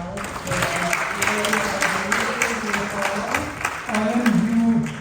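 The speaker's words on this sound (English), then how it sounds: "Can we get another round of applause?" An audience claps after a poem reading, steady applause running throughout while a voice talks over it and a loud tonal sound rises near the end.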